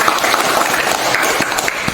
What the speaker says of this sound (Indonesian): Tepuk tangan dulu, Tiara.